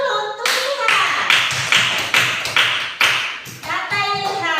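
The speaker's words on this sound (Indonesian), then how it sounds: "tepuk tangan dulu untuk Ilham" A small group claps for Ilham in a classroom, a run of sharp, fairly close hand claps with a loose rhythm. A voice speaks briefly at the start and end.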